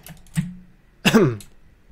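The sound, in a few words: cough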